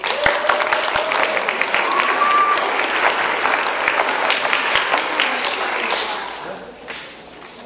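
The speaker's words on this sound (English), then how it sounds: "Give her a round of applause." A room full of people at a meeting applauds an orchestra director with dense, sustained clapping that fades out toward the end.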